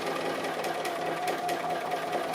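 A sewing machine runs steadily while stitching applique, giving a continuous mechanical whir with faint periodic ticks, moderately loud and alone throughout.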